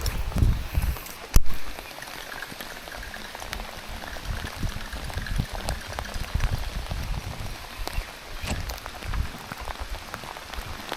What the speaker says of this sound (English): it's gonna rain just hard enough to get soaking ass wet